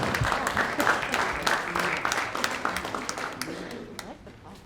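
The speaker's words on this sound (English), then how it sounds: "This is where you get more applause" Steady applause from a crowd, continuous clapping that slowly fades toward the end.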